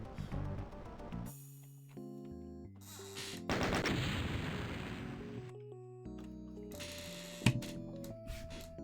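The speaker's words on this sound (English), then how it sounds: "oh, the tower is indeed exploding" Hyperion's tower blows apart in a Doom Lonesome Road map, a sustained roar of blasts and crackling debris that swells loudly for several seconds over steady in-game music, with another sharp burst near the end.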